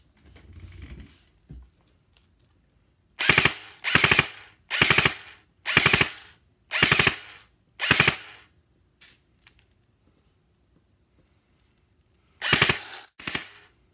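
Several short bursts of rapid full-auto fire from a Classic Army M4 MK16 airsoft rifle, crisp and close, with brief pauses between each burst and a final pair of bursts after a longer gap.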